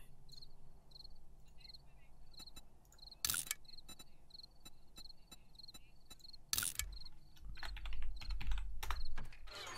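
Quiet, irregular tapping on a computer keyboard during a PC game session, bursts of keystrokes with a couple of sharper clacks, over a constant background insect-like chirping.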